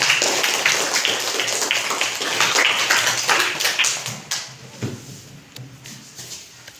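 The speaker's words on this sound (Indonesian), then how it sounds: "kita kasih aplaus dulu nak buat kelompok" Applause from a classroom group of teachers, a dense burst of clapping that thins out into scattered, separate claps before dying away.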